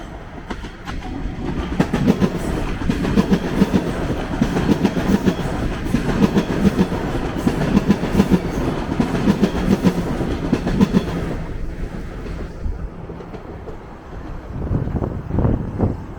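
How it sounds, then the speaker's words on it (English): A northbound subway train rumbles past on Yonge Street in Toronto, loud and close, with a steady rolling clatter that holds for about eleven seconds before fading into quieter street ambience. "A northbound train."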